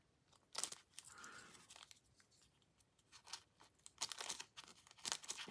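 Quiet, irregular bursts of snipping and tearing as poor-quality scissors chew through material, with crinkly rustling between cuts and no talking.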